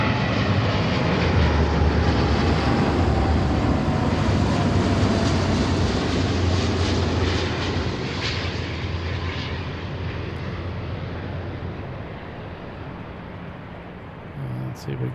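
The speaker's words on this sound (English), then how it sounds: "Landing at Seattle International." A Turkish Airlines jet lands at Seattle airport with a loud, continuous engine roar that is strongest at first and slowly fades as the aircraft rolls on.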